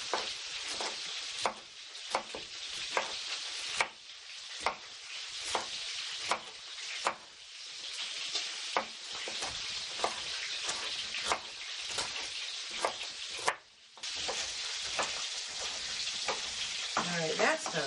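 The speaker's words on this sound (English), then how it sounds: "Now we want to let this chicken brown in the pan." Steady sizzle and crackle of chicken browning in a hot pan, with occasional scraping stirs breaking the frying hiss.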